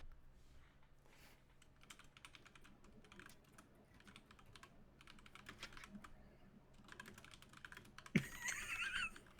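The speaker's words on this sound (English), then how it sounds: "I hear the fucking typing." Computer keyboard typing heard faintly as a run of quick, irregular clicks at a distance, ending in a louder burst of other noise.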